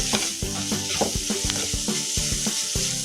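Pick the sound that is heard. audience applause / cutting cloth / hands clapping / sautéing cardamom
sautéing cardamom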